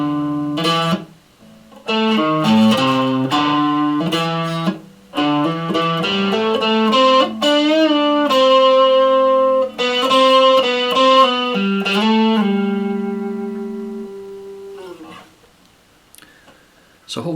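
An electric guitar plays a solo slowly, as a clear sequence of sustained, bending notes with short pauses, ending on a long held note. No one talks over it.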